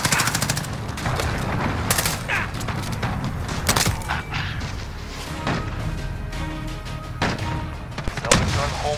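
An enemy cruise missile strike lands in the Modern Warfare video game amid a loud barrage of gunfire and crashing blasts, repeated sharp impacts and rattling bursts filling the whole stretch.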